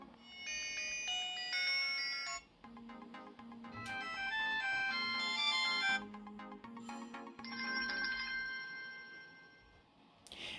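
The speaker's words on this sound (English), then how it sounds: "Now you have only 3 options for ringtones, but from here you can see the speaker quality is pretty decent" A melodic electronic ringtone from the small speaker of a Rogue Alpha smartwatch, a clone of the Apple Watch, playing several bright chiming phrases in a row with brief gaps, clear and close.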